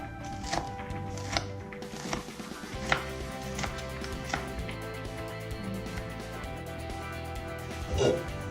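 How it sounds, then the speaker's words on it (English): A knife cuts fatty bacon into chunks on a board, giving a handful of irregular soft thunks and taps, fairly quiet and close, with faint room noise between strokes. "I'm going to cut these into chunks"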